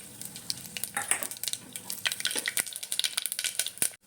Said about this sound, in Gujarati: આપણા ખડા મસાલા બધા ફૂટી ગયા છે